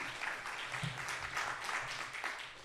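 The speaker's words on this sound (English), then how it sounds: "Give yourself a round of applause so they have the courage to come out." A seminar audience on aging claps together, producing a steady wash of applause from a moderate-sized group, fairly close and even over a couple of seconds.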